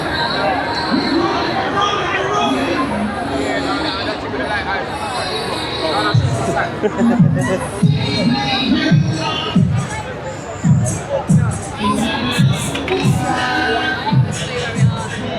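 A dense street crowd at Notting Hill Carnival in London, with continuous babble, shouts and cheering all around and heavy rhythmic bass thumps pushing through the middle section.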